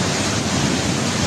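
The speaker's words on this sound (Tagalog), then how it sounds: "Hindi naman alintana ng isang lalaki ang ragasa ng ilog sa General Santos City." Floodwater from an overflowing river in General Santos City rushes in a loud, steady broadband roar that stays unbroken throughout, with no voices.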